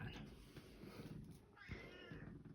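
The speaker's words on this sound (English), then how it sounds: "My cat's joining in now." A house cat meows a couple of times nearby, its calls rising over steady talking and low background noise in a room.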